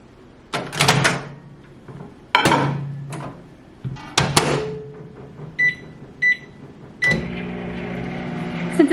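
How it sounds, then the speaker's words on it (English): A microwave oven in a home kitchen, heard as several door thumps and button beeps before it starts a steady running hum, close and moderately loud, with no one speaking. "I'm gonna microwave it for a few seconds to get it soft enough"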